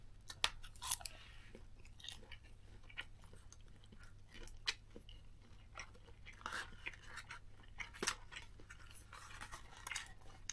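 Someone chews a handmade burger close to the mic, with soft wet bites and crunchy chomps in an uneven rhythm, quiet and without speech over a low steady hum.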